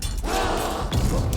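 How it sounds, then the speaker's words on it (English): A grenade blast in the video game Dune: Awakening, one loud, dense, crashing burst lasting about a second, close and without talk. "I hit myself with my own grenade"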